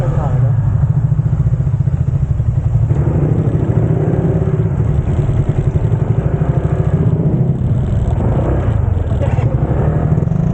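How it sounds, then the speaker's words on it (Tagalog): A motorbike engine idles close by as the rider parks at the parking area near a waterfall, a loud, steady, pulsing putter that runs throughout, with talk heard over it. "So, ipapark lang natin yung motor dito."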